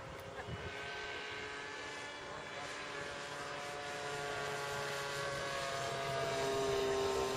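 A Piper J-3 Cub RC model airplane flies overhead, its small engine producing a continuous droning buzz that holds steady and grows slightly louder toward the end, heard from the ground.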